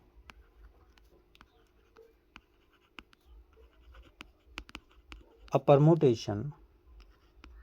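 Writing a definition on a board during a group theory lecture: faint, sparse taps and scratches of strokes at a steady pace, interrupted near the end by a short spoken phrase.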